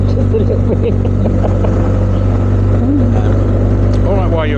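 A motorbike fitted with an Akrapovic exhaust and a remap idles and revs at low engine speed, its steady loud drone close by with a brief rise near the end.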